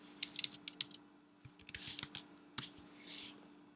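Quick bursts of computer keyboard keystrokes in short irregular clusters, fairly close and clear, with a steady low hum running underneath and no voice.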